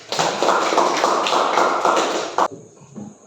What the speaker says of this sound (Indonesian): Kita beri aplaus dulu buat Febri